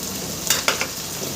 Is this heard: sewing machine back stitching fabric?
no